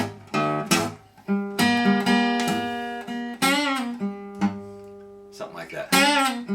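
A guitar plays a blues-style four chord with double stops. Close, picked chord stabs come in uneven bursts, with a voice-like hum or vocal sound blending in at moments.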